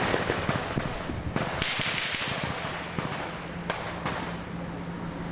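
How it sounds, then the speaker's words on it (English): Scattered sharp bangs from police flashbangs and gunshots during a neighborhood standoff, several distinct cracks spaced irregularly over a constant hiss, moderately distant and fairly faint. "you could hear several dozen flashbangs and perhaps a few gunshots mixed in"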